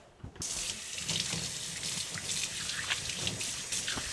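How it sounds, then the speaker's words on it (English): Hands being washed under a running kitchen tap while making dough, a steady close splashing stream of water that starts abruptly and runs without pause, with no talking. "let's clean our hands"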